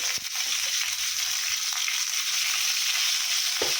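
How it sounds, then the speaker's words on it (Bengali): Bitter gourd slices with a pinch of salt frying in a pan for a Bengali shukto, giving a steady, close hiss of sizzling oil that carries on evenly throughout, with a few soft stirring scrapes. "লবণটা দিয়ে ভালো করে উচ্ছেটাকে ভেজে নেব"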